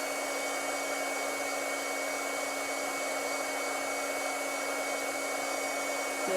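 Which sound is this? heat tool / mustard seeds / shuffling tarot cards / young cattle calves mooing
heat tool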